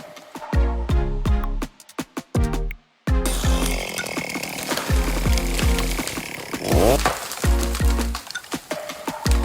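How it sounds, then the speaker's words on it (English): A large chainsaw or harvester saw cuts through unwanted bent trees in a forest logging operation, revving loudly in repeated bursts with short pauses between cuts, close and harsh. "precise saw cuts cut unwanted bent trees, protecting good trees"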